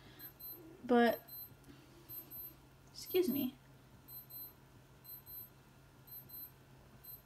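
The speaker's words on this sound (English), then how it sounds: "one second while my husband's watch stops beeping." A few short electronic beeps from a wristwatch repeat in a steady pattern across the clip, with someone speaking briefly over them.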